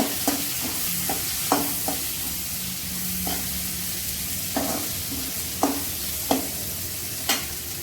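Onions sauté in a pan until lightly browned for a dried fish and egg thokku, with a constant close sizzle broken by sharp, occasional spatula scrapes and knocks against the pan. No voices.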